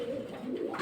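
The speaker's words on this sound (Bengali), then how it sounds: "অতুলনীয় কবুতর" A large king-size pigeon gives a short low coo, close and fairly quiet, a brief single call with no talking.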